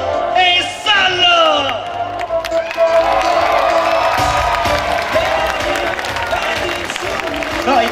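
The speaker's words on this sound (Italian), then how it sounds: "guarda che applauso caloroso!" Warm audience applause and cheering at a summer outdoor comedy show, loud and sustained with whoops rising over dense clapping, a voice calling out briefly at the start.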